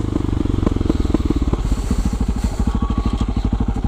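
Supermoto motorcycle riding up an off-road byway, its single-cylinder engine close and loud with a rapid, pulsing exhaust thump that quickens as it climbs, with no talk over it.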